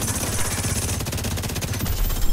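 Rapid automatic gunfire from a shooter video game while shooting enemies, dense fast bursts of crackling shots played at moderate level without pauses.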